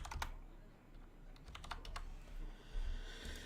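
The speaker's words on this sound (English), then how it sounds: "just typing to him in chat" Fast, irregular keystrokes patter on a computer keyboard during an online Hearthstone match, faint and close. Clusters of clicks run over a quiet room hum, with no voice.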